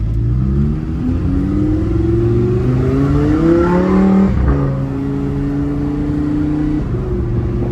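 A Lamborghini Huracan pulls hard on a street, its loud engine note climbing steadily, briefly dropping at a gear change, then rising again before another shift near the end.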